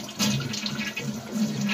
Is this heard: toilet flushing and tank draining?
yes